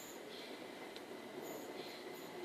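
A London Overground train arriving at Brockley station on the Brighton main line, heard as a faint, steady distant rumble with light, high wheel squeal drifting in and out.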